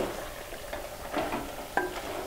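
Coorg-style pork fry with curry leaves being stirred in a pan, a soft continuous sizzle with light scraping strokes, close up and without talk.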